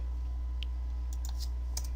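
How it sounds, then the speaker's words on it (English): Delete key pressed on a computer keyboard, a few light, sharp clicks scattered over a steady low hum, close and fairly quiet. "pressing delete on my keyboard"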